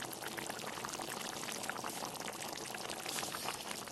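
A steady wet pouring hiss of tomato sauce and chilli sauce going into a simmering baby potato gravy, continuous and close for the whole stretch with no voices.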